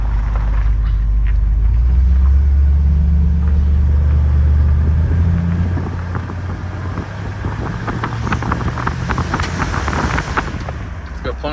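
A stock V8 in a 1964 Ford Galaxie on its first road drive, a steady low engine rumble with wind noise that eases after a few seconds into a lighter cruising drone, heard from inside the car.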